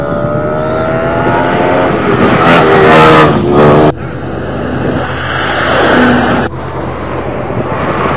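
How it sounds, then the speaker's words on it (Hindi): Close, loud engines of rally jeeps at the Cholistan Jeep Rally on a desert track, revving and accelerating past in rising and falling sweeps, with two abrupt cuts and wind buffeting the microphone. "मुसलसल 3 दिन हर बार नए मुख्तलिफ ट्रैक पर मुख्तलिफ किस्म की गाड़ियों की रेस होती है।"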